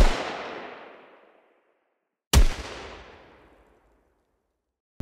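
A loud gunshot cracks out twice, each blast followed by a long rolling tail that decays slowly over a couple of seconds, designed as a modern firearm sound effect, with no voices.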